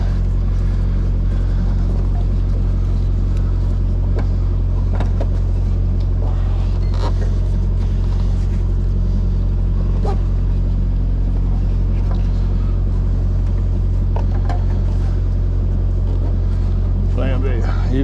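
A hot Detroit engine with a thrown inner belt idles in a Freightliner truck. A deep, steady, loud rumble runs throughout, with faint clicks and clatter on top.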